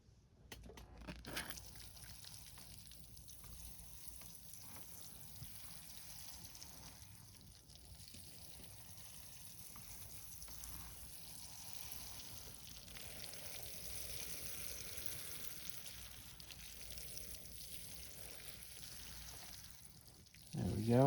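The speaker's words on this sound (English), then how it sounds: "let's get some water on here" Water trickles and hisses steadily into the soil of a potted acacia bonsai, a soft continuous spatter close by that runs for about twenty seconds with no talk, then a louder handling noise at the end.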